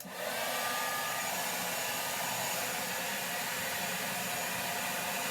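A hair dryer blows steadily, a loud continuous rushing whoosh of air that holds constant throughout with no talking.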